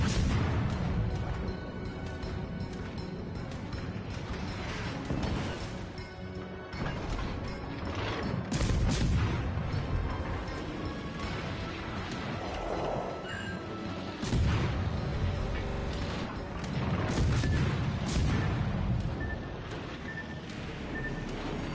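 Naval gunfire and explosions in World of Warships Legends, with repeated heavy booms and crashes over a rumbling, mechanical battle din that stays loud and dense throughout.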